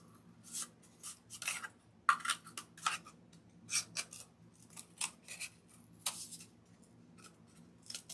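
Scissors snip repeatedly through material cut into three-inch pieces for a large DIY gingerbread man decoration, a series of close, crisp cuts in uneven bursts against a quiet room hum.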